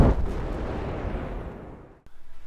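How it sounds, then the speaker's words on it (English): A light on a wrecked ship blowing up when shot in a Battlefield video game: a loud, sudden blast with a long rumbling decay, then a brief cut and a faint pulsing tail. "shooting it will cause it to explode"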